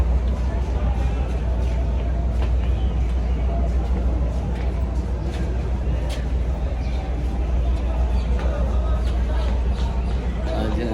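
Busy platform ambience at Lahore railway station in Pakistan, a dense continuous hubbub of many distant voices over a deep rumbling drone, steady throughout and fairly loud.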